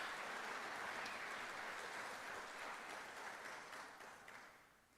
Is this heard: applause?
yes